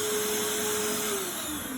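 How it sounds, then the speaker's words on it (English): A pool vacuum runs with a steady loud motor whine and broadband rushing hum, then winds down as it is switched off near the end. "Turn off the vac."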